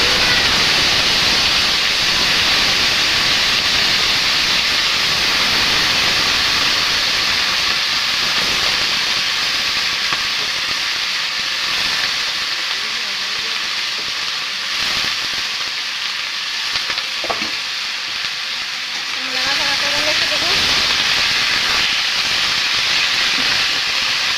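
Fried potatoes with panch phoron sizzle in hot oil, making a loud, constant hiss that dips slightly midway and then returns to full strength, without speech.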